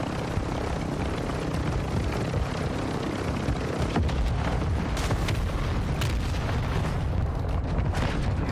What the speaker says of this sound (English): Hostile mortar strike in the area.